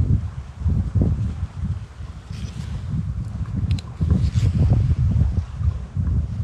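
Strong outdoor wind buffets and roars continuously at close range in a wild survival setting, gusting unevenly with low rumbling bursts and no voices.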